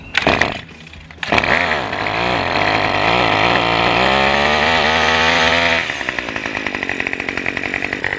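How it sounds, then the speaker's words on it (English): A Cub Cadet BC 280 string trimmer engine catches after a sharp pull of the starter cord, then runs loud and close at a steady high buzz before dropping to a rougher, pulsing idle. "Really easy to get this Cub Cadet BC 280 fired up"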